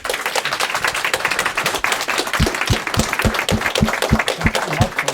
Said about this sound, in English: I think this guy deserves a round of applause too